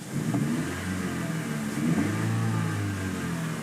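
A 2016 Honda Fit Hybrid, a Japanese auction import, idling close by with its engine running smoothly: a steady mid-pitched hum and rumble that swells slightly once, with no speech over it.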